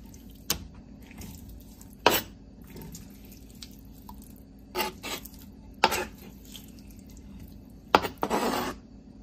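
Two chicken breasts being cut into small pieces in a home kitchen for butter chicken, heard as scattered sharp knocks and clatters against a quiet background, with no talking.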